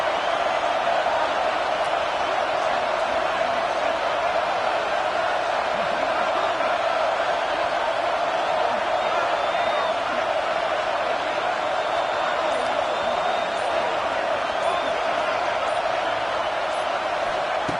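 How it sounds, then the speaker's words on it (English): A dense, steady roar of a large stadium crowd at an American football game, constant and loud throughout with no pauses or distinct voices standing out. "Listen to this crowd noise. The stadium is vibrating."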